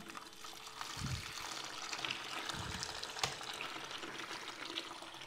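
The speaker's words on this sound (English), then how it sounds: "So when I switch on the pump," Water flowing through a yacht's pump hoses once the pump is switched on, a steady low gushing and trickling wash with a few soft surges and one sharp knock, fairly close and continuous.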